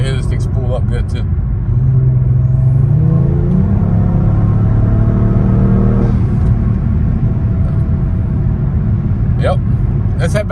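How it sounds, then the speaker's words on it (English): A 2018 Kia Stinger tuned with a Lap3 Pro-Tuner pulls hard, its engine a steady loud rumble with a rising whir as the turbo spools up, while people talk over it inside the car. "You can hear this thing spool up good too."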